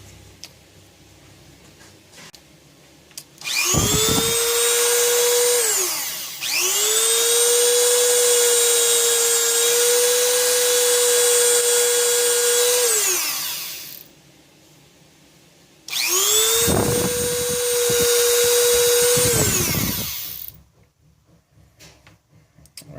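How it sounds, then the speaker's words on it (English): A Dremel rotary tool polishes a scratched watch crystal, its high motor whine spinning up in three loud, sustained bursts separated by short pauses, steady in pitch while running. "Dremel attachment"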